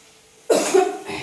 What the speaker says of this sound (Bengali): এত কাশি হচ্ছে, কাশি আর আমার ভালো হচ্ছে না